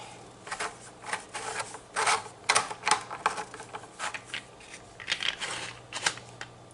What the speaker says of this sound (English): Okay, so now we'll screw this onto here.